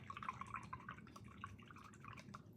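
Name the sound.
paintbrush being rinsed out in water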